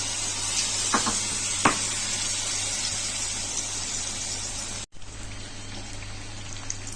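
Mochar chop, banana flower fritters coated in batter, fry in hot oil with a steady bright sizzle and a couple of sharp pops early on, then a brief cut before the hiss resumes.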